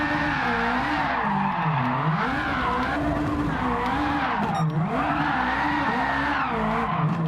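Ferrari 458 V8 engine swapped into an Alfa Romeo 4C, naturally aspirated and around 740 hp, driven hard in Gran Turismo 7 with a loud, constant high-pitched wail that rises and falls with throttle and gear changes, alongside tire squeal.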